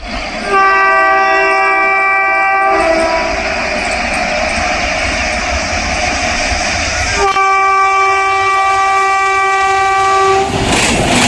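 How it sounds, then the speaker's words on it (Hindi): An Indian intercity express train passes a railfan spot at Chiheru, sounding a loud, sustained multi-tone horn in two long blasts over the steady rumble of rolling carriages, with no talk. "वो कर्व लेते हुए स्वराज एक्सप्रेस आ रही है"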